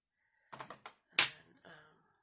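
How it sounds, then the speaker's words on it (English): Scissors snip through ribbon while a small flag embellishment is being made. A quick cluster of soft, close cuts is followed by one sharper, louder snip and a fainter trailing click, with no talking over them. "take my scissors. I'm gonna cut this down right to the third loop"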